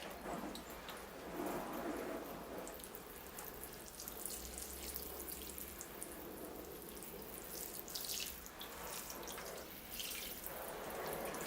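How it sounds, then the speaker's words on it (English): Water poured over a small cedar bonsai and its covering of moss, a steady splashing trickle that runs throughout, close and moderately loud, rising and falling a little as the stream moves, with no talking. "All right, here I go with the water."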